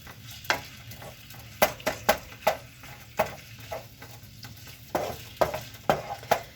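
Lamb frying with dill in a pan, a quiet, steady sizzle broken by repeated scraping and stirring knocks from a utensil against the pan.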